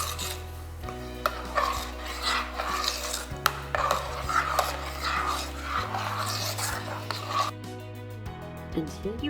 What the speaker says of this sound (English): Give this a good stir and leave this to simmer